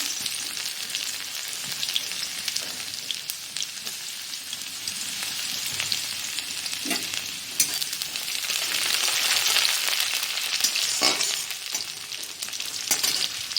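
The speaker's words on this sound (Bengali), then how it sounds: "এতে আমি এই কালো জিরে আর শুকনো লঙ্কা ফোড়ন দিলাম। এরপর কুচিয়ে রাখা রসুনগুলো দিয়ে দিলাম।" Garlic, black cumin and dried chilli sizzle steadily in hot oil, a continuous crackling hiss with occasional sharper pops, close and fairly loud, with no voices.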